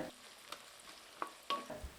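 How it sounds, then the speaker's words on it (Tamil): Faint sizzling of onions sautéing in a pan with occasional scraping stirs and clinks of a utensil, quiet and close. "இப்போ வெங்காயத்தையும் நல்லா வதக்கி விட்டுருக்கலாம்"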